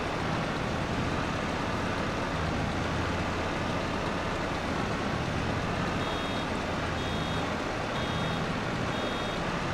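A farm vehicle in a farming simulator video game gives off faint, regular reversing beeps, spaced evenly over a steady engine-like drone, with no talking.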